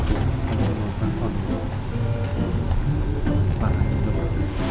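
Heavy rain pouring down in Chiang Mai, a dense continuous hiss with passing vehicle rumble underneath and voices faintly in the background.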